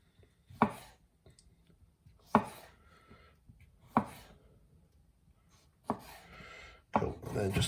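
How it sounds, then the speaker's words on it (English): A knife chops quartered vegetables finely on a board, six separate sharp thuds spaced a second or more apart, close and alone, the last few bunched into a brief burst. "then I'd chop them across like that, so then we quarter them all first, and then I'll cut them nice and finely from there"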